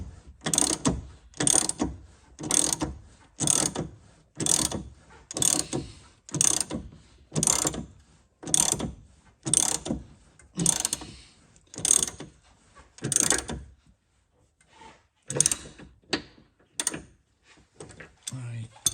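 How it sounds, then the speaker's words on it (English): A press tool draws a subframe bush into a Volvo V70 P2, giving steady, evenly spaced ratcheting clicks, each a loud close burst of metal mechanism, repeating around fifteen times before slowing to a few irregular clicks. "I am actually managing to pull the bush in."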